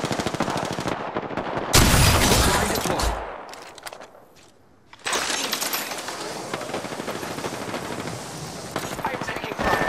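Rapid automatic gunfire in Apex Legends, loud dense bursts of machine-gun fire that drop away to a brief lull and then resume heavily, with a voice speaking in places.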